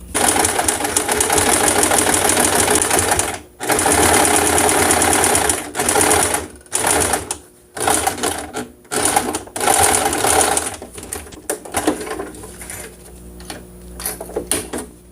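A sewing machine runs a flat felled seam in loud, steady stitching bursts broken by short pauses, with the runs growing choppier and quieter toward the end.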